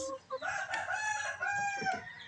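A gamecock rooster crows once nearby, a loud, drawn-out call with a brief cluck before it.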